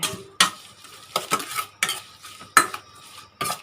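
A spicy fresh squid and shrimp salad with lemongrass, chili, onion and scallion is tossed in a bowl, producing close clinks and wet stirring scrapes in irregular bursts, with no talking.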